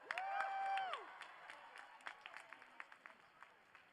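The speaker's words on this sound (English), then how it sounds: "let's give the choir another big round of applause." Scattered, fairly faint applause for a choir rises from an audience at a university commencement ceremony, thinning to isolated claps as a voice carries over the start.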